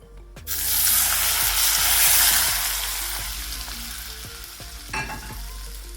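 Hot oil tempering with mustard seeds and curry leaves is poured onto mango mixed with chili powder for a Kerala sadhya pickle, bursting into a loud, close sizzle that slowly fades with scattered pops.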